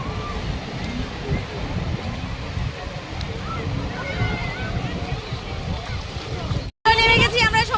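Sea water washes and sloshes against the shore at Digha beach as a steady rushing wash, with people talking over it and a brief cutout near the end before louder voices.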